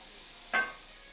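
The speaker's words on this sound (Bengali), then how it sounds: "আদা রসুন জিরা সব একসাথে দিয়ে দিলাম। ভাজা ভাজা করে নেব।" Ginger, garlic and cumin fry with onions in a wok, a low steady sizzle broken by a single short scrape of the spatula.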